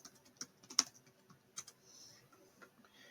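Computer keyboard typing while naming a sketch in CAD software: a few sparse, faint key clicks spread irregularly, with one sharper tap standing out, quiet and close with no talk.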